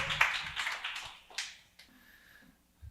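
A church congregation gathered for a Friday service applauds to welcome a pastor. The scattered clapping fades over about a second and a half, then gives way to quiet room sounds and brief shuffling.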